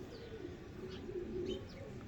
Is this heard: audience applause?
no